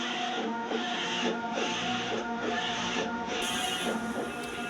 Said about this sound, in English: So the printing starts here and then it ends all the way here